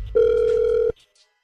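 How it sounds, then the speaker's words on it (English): Telephone ringing on a live radio call-in show, a single steady electronic ring tone held for most of a second, loud and clear, then cut off into near silence. "I hope she answers the phone"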